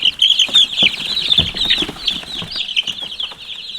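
Hens cluck and squawk inside a homestead chicken coop, with a dense, steady stream of shrill peeping and chattering from young chicks. Wing flaps and shuffling can be heard among them. It is close, busy and continuous, with no talking.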